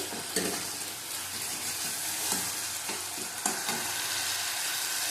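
Ginger paste sizzles in oil in a pan while being stirred for a fish curry, a soft steady frying hiss broken by a few light scrapes of the spoon, close and fairly quiet, no voices.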